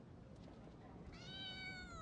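A cat meows in Genshin Impact, a single drawn-out, high-pitched call rising over faint background hiss, coming in near the end after a quiet stretch.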